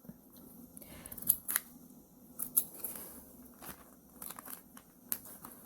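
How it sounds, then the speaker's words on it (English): Small scissors snipping a tiny paper image, a series of light, close snips and crinkles spaced irregularly over a few seconds, fairly quiet with no voices. "I'm gonna cut that out"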